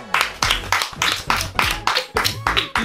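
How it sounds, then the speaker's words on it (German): A few rhythmic claps, roughly eight evenly spaced sharp slaps from one person close by, like a small round of applause. "Auf jeden Fall dafür einen Applaus."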